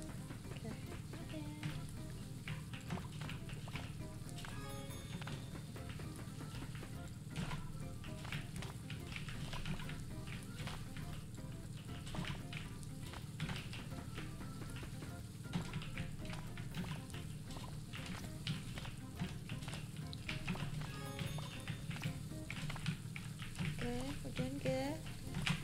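Meat sizzles on a grill in a home cooking setting, a steady dense crackle running the whole time with voices talking over it.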